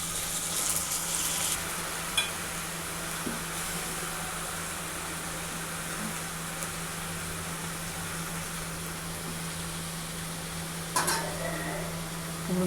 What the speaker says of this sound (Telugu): ఇప్పుడు బీరకాయలు వేసుకున్న తర్వాత ఒకసారి ఇలా మొత్తం కలుపుకోవాలి.